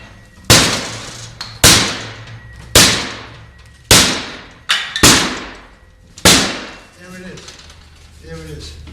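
Forcible entry tool striking a training door prop in a firefighter drill: six loud, sharp metallic bangs spaced about a second apart, each ringing briefly, followed by quieter scraping and prying.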